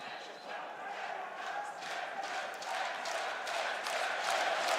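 Esports arena crowd at the IEM Katowice Major cheering and chanting during a CS:GO match between ENCE and Team Liquid, a moderately distant, swelling roar with rhythmic bursts that builds toward the end.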